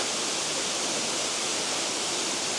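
A mountain waterfall on Dinghu Mountain in China, a steady broadband rush of falling water that stays even and fairly loud throughout, with no voices over it.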